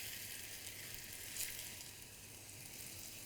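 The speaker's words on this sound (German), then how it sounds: "Jetzt kommen die Krevetten da drin und zwar kurz, wirklich nicht zu lang." Shrimp fry in a hot pan with a steady, bright hiss of sizzling oil, loud and close, with a brief louder crackle partway through.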